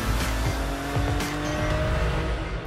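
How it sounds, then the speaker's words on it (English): Car driving in the Rocket League video game, a steady engine hum with brief tire squeals and skidding sounds, loud and continuous throughout. "Hold right trigger to drive"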